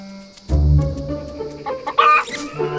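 A Malagasy chicken on Berenty, Madagascar, clucks a few times, fairly close, over a light outdoor background.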